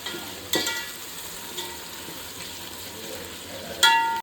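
Ginger garlic paste and tomato sauté in a pan for biryani, a soft steady sizzle with a few sharp clinks of a utensil against the pan.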